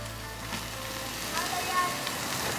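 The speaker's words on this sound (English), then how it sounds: "See if we can't get a little sear on these." Double-bone pork chops sear in a hot pan with a steady, close crackling sizzle that holds evenly throughout the short stretch.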